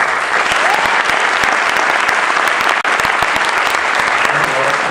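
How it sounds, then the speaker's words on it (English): At an Ignite talk event, an audience gives a big round of applause for the presenters, loud, dense clapping that sustains evenly throughout, briefly cutting out near the middle. "let's have a big round of applause for Rayle and Honkala"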